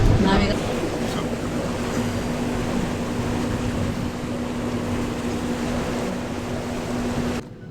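Steady drone of a boat engine in Norway heading toward a large cave entrance, with a constant hum, water washing and wind noise continuous throughout, ending abruptly.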